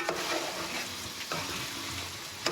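Vegetables and spices stir-frying in a pan for a vegetarian prawn and paneer dish, a soft, even sizzle with occasional spatula scrapes and a sharper knock near the end, fairly quiet and without talk.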